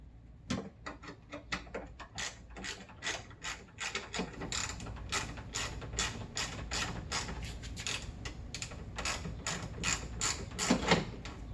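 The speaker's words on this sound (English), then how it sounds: "Switch over to our ratchet." A ratchet wrench turning bolts on a Mercedes SEC headlight washer, giving a rapid, steady run of close mechanical clicks that continues throughout with no talk.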